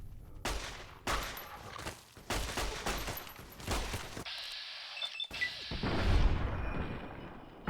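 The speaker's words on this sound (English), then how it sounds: "Who's shooting at me?" Bursts of gunfire in Fallout: New Vegas, inside a cave: several loud volleys of rapid shots in quick succession, a brief lull with a tonal game effect, then heavier booming fire toward the end, no speech.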